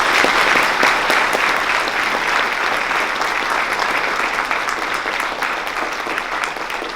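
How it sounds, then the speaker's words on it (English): Steady, dense audience applause for F.A. Cole, a survivor of female genital mutilation, at a Texas Tech University talk, sustained and fairly loud throughout without fading. "so I'd like to give her a round of applause as she shares her story."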